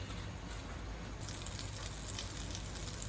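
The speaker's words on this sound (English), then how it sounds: "add some butter in the pan" Butter melts in a hot pan for a butter chicken dish, giving off a faint, steady sizzle with no talking over it.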